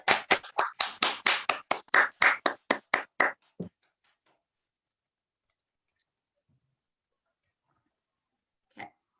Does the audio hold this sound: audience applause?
yes